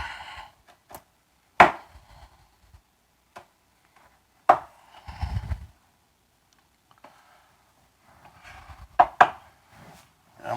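A kitchen knife chops food on a cutting board beside a cast iron Dutch oven of chicken chili with cannellini beans and bacon: sharp, close, isolated chops with a few quick bursts of rapid cuts and quiet pauses between.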